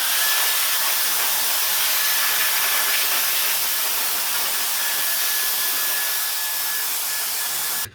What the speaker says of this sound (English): if you're looking for a really awesome duster, something that you can blow away debris in a job site